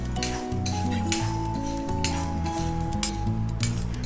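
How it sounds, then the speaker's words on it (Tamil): Peanuts dry-roasting in a pan for modak filling, stirred with metal utensils that clink and scrape in repeated bursts over a light sizzle, fairly close and without talking. "இதில் நம்ம வேர்க்கடலையை சேர்த்து நல்லா வறுத்தி எடுத்துடலாம்."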